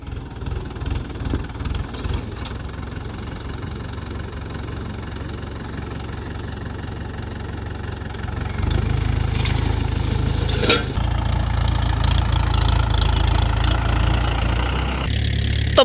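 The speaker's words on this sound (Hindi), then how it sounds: "कमेंट करके बताओ कौन से ट्रैक्टर की आवाज़ लग रही है, स्वराज की लग रही है या सोनालिका की।" A tractor engine fitted with a modified silencer runs steadily, then its revs rise to a louder, fuller roar about halfway through and hold there, close and with no voices.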